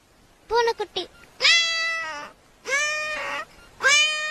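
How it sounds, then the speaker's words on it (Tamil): A kitten's meowing, likely voiced by a person in a comedic scene: a quick stuttered mew followed by three drawn-out, rising-and-falling meows, close and distinct with short gaps. "பூனைக்குட்டி,"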